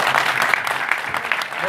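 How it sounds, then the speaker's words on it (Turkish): Dense, steady clapping from a crowd, a continuous patter of many hands that stays loud throughout with no pauses. "Ben şimdi sizden yerel basına güçlü bir alkış istiyorum"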